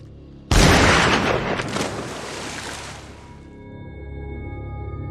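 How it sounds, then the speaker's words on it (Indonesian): A single loud rifle shot in a thriller film at a lake booms out sharply, then rolls off into a long fading echo over quiet outdoor ambience. "ia malah ditembak menggunakan senapan yang telah dibawa oleh Howard"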